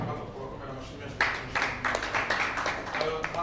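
Audience clapping for singers at a Burundian music event, a burst of applause that starts abruptly and continues in uneven rhythmic waves, fairly close and loud.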